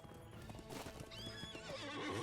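Horse in The Lord of the Rings Online: steady clip-clop hoofbeats with a clear neigh partway through, fairly close and moderately loud, no talking.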